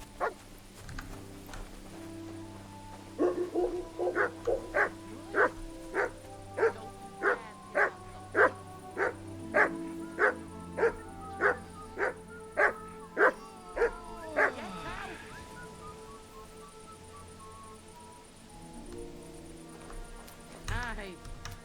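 A dog in Kingdom Come: Deliverance II barks over and over in an even, rapid rhythm, loud and close, with a few whimpers and game sounds near the end.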